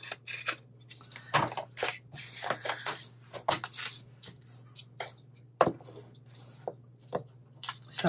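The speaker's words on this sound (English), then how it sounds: "What I'm going to do is turn it around and trim my fabric." Scissors trim fabric in a quiet room, giving a string of soft, crisp snips at an irregular pace with pauses between cuts.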